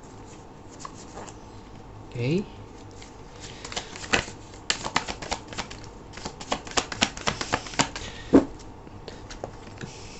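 Tarot cards are shuffled and drawn with quick, crisp riffles and a flurry of sharp slaps and flicks, close and fairly quiet. Someone says a single word briefly.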